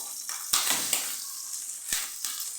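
Homemade luncheon meat slices frying in hot oil in a pan, a steady bright sizzle with bursts of crackle and spatter as pieces are moved, close and fairly loud with no talking.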